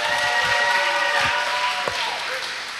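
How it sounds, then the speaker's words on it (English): An audience gives a round of applause at a talent showcase event, a dense, steady roar of clapping that holds evenly and fades slightly toward the end. "let's give another round of applause for her."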